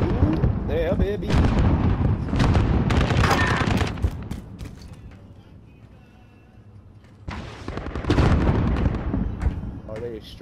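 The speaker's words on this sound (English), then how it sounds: "Bomb is in flight." Bomb blasts and gunfire from Call of Duty: Modern Warfare roar in loud, dense bursts, easing into a quieter lull before another heavy volley erupts, with voices faintly underneath.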